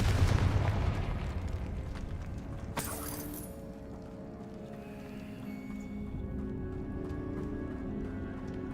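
A Confringo blasting spell in Hogwarts Legacy sets off a sudden crackling burst after a low rumbling ambience, followed by a fading magical hum and faint tones, with no voices over it.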